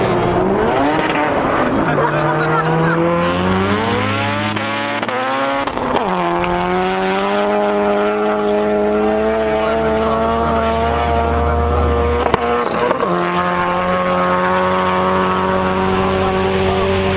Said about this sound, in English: Hatchback, 159 miles per hour. VTEC kicking in down the track.